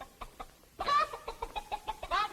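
A voice imitates a hen clucking in a 1952 children's television show, a quick run of short, rhythmic clucks, loud and close, after some soft faint taps at the start.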